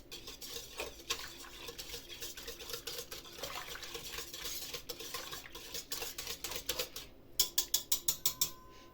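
An electric dough mixer whirs and churns steadily kneading bun dough, then ends in a run of sharp rhythmic knocks, with no one speaking.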